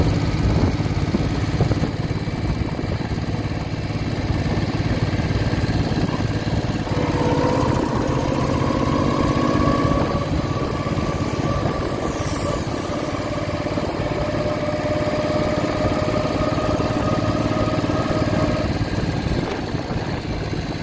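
A 1968 Moto Guzzi V7 700 motorcycle with freshly sleeved cylinders runs steadily on a ride, its engine drone continuous and loud throughout, with rising and falling revs and wind noise.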